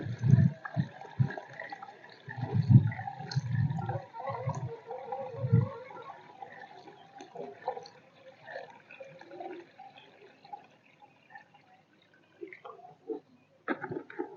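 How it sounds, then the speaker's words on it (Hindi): Two to three litres of water are poured into a container to mix an organic spray for apple ber plants outdoors, giving a soft splashing and gurgling fill that trails into faint drips and small knocks. "ये पानी डाल दो 2-3 लीटर इसके अंदर।"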